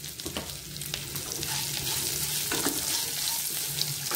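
Sliced large onion frying in oil in a pan with green chillies for oats upma, a steady broadband sizzle that runs the whole time with a few soft scrape and stir knocks, close and moderately loud, no voices.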